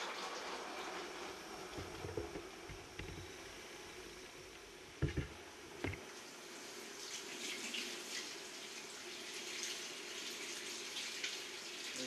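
Wort draining from a mash tun packed with rice hulls during the sparge of an oyster gose brew, a steady close trickling and splashing of liquid with a few brief clunks midway.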